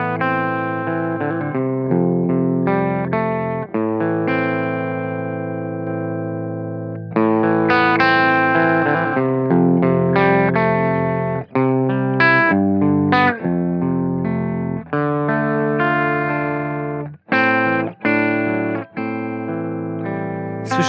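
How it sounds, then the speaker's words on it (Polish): Electric guitar played through a Taurus SH8 Qube amp with Marshall-style overdrive, sustained distorted chords and ringing notes with slight effects shimmer, steady and loud throughout with brief gaps between phrases, no talking. "Na pewno przester, który jest miły dla ucha. Jest to fajne przesterowanie."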